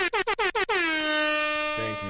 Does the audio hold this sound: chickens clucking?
no